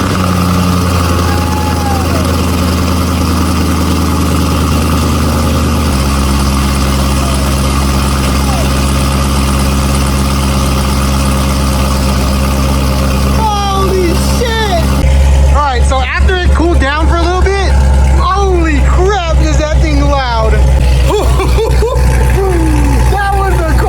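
A C7 Corvette V8 fitted with new long tube headers starts and idles, a steady loud low rumble throughout, growing rougher partway in as the exhaust note rises, with a person talking over it.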